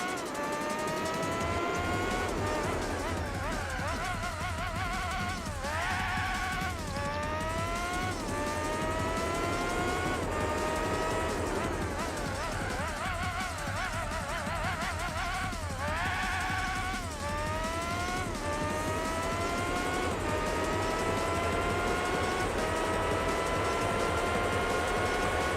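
Formula GT race car engines in Gran Turismo 4 scream at high revs, with repeated upshifts and sweeping pitch changes as cars pass, a continuous loud roar throughout with no voices.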